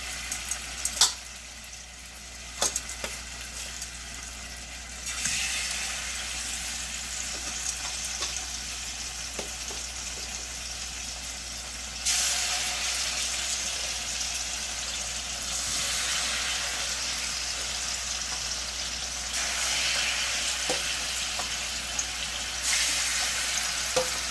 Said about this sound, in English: now I'm gonna add the salmon to the frying pan